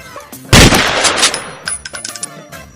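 A loud, close gunfire sound effect sets off a sharp blast and then a ringing metallic rattle that fades out in scattered clinks, in a comedy skit about Iron Man versus Hulk.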